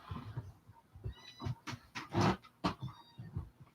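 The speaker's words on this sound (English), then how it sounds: "No, it's just a kitten whining. I hear a kitten." A kitten mews and whines in a string of short, thin cries, some louder and close, others faint, with a few soft noises between them.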